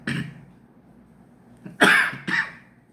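Two or three loud, close coughs burst out near the end after a soft breathy sound and quiet background.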